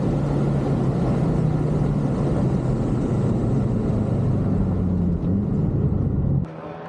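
A race car laps Atlanta Motorsports Park in a time attack session, its engine a loud, steady droning rumble heard from inside, holding at speed before abruptly dropping off at the end.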